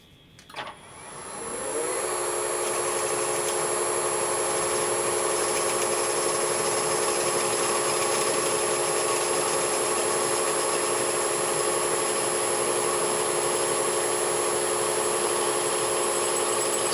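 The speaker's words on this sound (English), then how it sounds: "You're going to bring in the next size drill bit, go completely through the head, but not through the lump." Drill bit boring steadily through a Chevy inline six cylinder head, spinning up after a sharp start into a loud, continuous high-pitched whine that holds unbroken for about fifteen seconds, with no talking.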